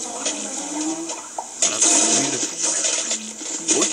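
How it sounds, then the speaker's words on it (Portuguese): Splashing, watery rushes from fish falling in the Crash Bandicoot: Twinsanity video game, coming in uneven bursts with brief quieter gaps, fairly loud and close. "Isso é peixe caindo, né?"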